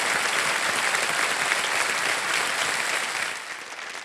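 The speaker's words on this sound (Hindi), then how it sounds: "तालियों के साथ आपका स्वागत" Studio audience applause on the KBC quiz show, a dense, even wash of many hands clapping at full strength before tapering off slightly at the end, with no speech.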